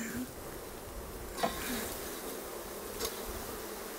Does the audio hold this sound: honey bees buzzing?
yes